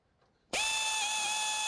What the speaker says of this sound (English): I can start bolting up the hinges for the hood and windshield using the new stainless pieces from Quadratech